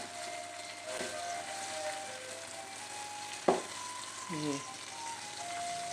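Masala-coated fish fillet pieces frying in a pan, a steady low sizzle with a sharp clatter as a piece is flipped midway and a few softer scrapes after, close up with no speech.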